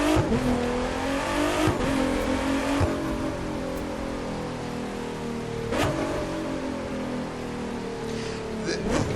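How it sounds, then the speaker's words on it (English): A Ford GT in the racing game The Crew 2 revs and pulls through its gears, engine note climbing then falling away on deceleration, loud and continuous with sharp shift bursts near the start and middle. "so you've heard the Ford GT quite extensively. Its deceleration sound is quite good."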